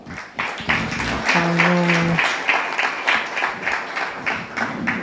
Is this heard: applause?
yes